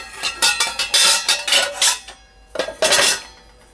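Clean cutlery clinks and rattles in a small basket taken from an Electrolux 14-place stainless steel dishwasher (LI14X), in close, bright bursts of metallic jangling with a short pause before a final flurry.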